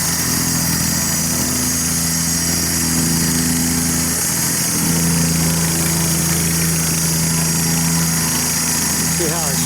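A small gravel-tamping machine working a driveway at a new house, running as a steady loud engine drone with a continuous vibrating rumble throughout.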